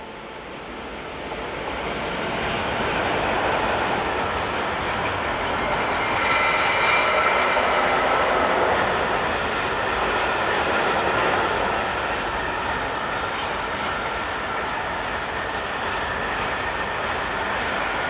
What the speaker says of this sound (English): Austrian Vectron electrics are a common sight along this line, such as this example seen here